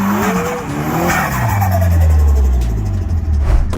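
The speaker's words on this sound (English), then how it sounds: "Turbo noises are fucking cool." A turbocharged performance car, set against a Porsche 718 GT4 and Mercedes C63 comparison, roars past with tires squealing and engine note sweeping up and down, loud and close, with hissing turbo whooshes and no voices.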